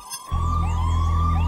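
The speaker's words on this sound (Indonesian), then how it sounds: "Itu sirine peluncuran." Launch siren in an animated robot cartoon, a loud, steady wailing alarm that kicks in sharply after a brief moment and holds on continuously.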